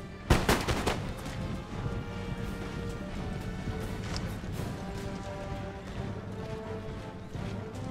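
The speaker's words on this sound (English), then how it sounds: "he's exchanging fire with my long rifles" Musket volley fire in the Empire Total War strategy game, a sharp burst of gunfire at the start followed by scattered distant shots and crackling battle noise that carries on steadily throughout.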